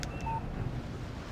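A short electronic phone alert announcing a text message in the Alan Wake video game, a couple of quick high beeps standing alone over low background ambience.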